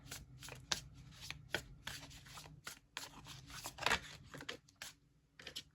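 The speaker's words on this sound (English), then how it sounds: "let me pull some cards." Tarot cards are shuffled by hand in a run of quick, crisp riffles and flutters, close and fairly loud, with brief pauses between bursts and no speech.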